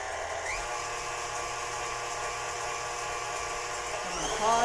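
Constant high whirring of an electric mixer running at full speed, whipping egg whites and sugar into pavlova meringue, heard close and steady with a slight change near the end.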